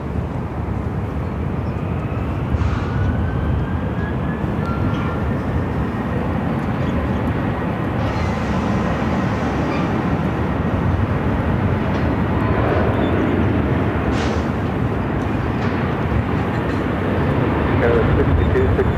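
A Southwest 737-800 airliner takes off from runway 25 right at Phoenix airport, a sustained loud jet roar slowly swelling, with a voice talking over it at times.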